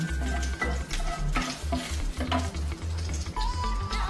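Bay leaves, whole cardamom and cinnamon fry in ghee for restaurant-style fried rice, giving a steady sizzle with light stirring throughout, set against a tonal musical background.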